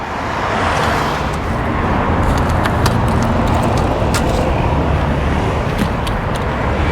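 Steady car traffic rushes past near a Los Angeles freeway off-ramp, a loud continuous roadway roar with occasional sharper passing swells and faint wind.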